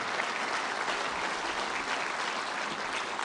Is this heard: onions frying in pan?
no